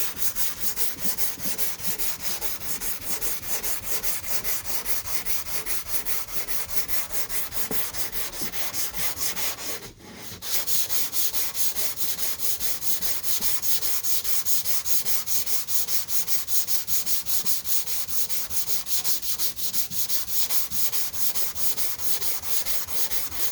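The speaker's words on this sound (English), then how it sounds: "We'll sand it some more." Hand sanding of 2K primer along a car body line gives a steady, continuous scratchy rub in quick repetitive strokes, close and fairly loud, with one brief break partway through.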